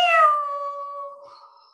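A human voice imitating a grumpy cat in a children's yoga story, a single drawn-out, whiny meow that starts loud and slowly fades over nearly two seconds.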